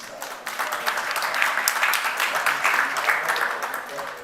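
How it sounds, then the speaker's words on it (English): An audience at a conference on just energy transition applauds, a steady, moderately loud wash of clapping lasting a few seconds with a voice faintly over it. "Please give them a round of applause."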